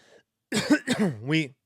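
A single rough, throaty cough in two bursts that trails into a strained, rising vocal sound, close and fairly loud after a brief quiet moment.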